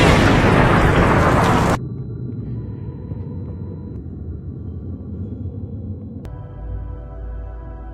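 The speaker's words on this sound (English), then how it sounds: "Then, the explosion happened." Explosion sound effect from a war-story narration, opening with a loud broadband blast for about two seconds and then settling into a low, sustained rumble of debris and aftermath with no voices.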